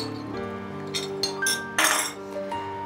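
A spoon stirs a cornflour-and-milk mixture into nearly boiling milk in a pan for ice cream, giving light metallic clinks and scrapes over a low steady hum, with a brighter clatter near the end.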